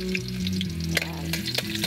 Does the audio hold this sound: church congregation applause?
no